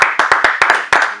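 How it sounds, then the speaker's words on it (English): Sharp bursts of audience clapping from a sound-effect clip play in about seven quick, uneven waves, loud and close, with no voices over them. "Let's go ahead and clap it up, people."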